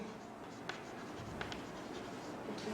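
Marker or chalk writing out a definition on a classroom board during a physics lesson, heard as soft scratchy strokes with a few sharper taps, low and steady under a faint room hum with no talking.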